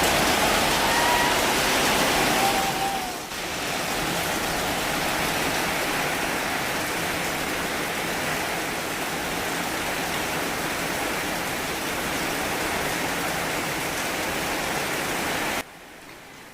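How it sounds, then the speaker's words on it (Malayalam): Heavy rain pours down in a steady, dense hiss that barely varies, with no voices, before cutting out abruptly near the end. "അങ്ങനെ മഴ നല്ല രീതിയിൽ പെയ്യുന്നുണ്ട്"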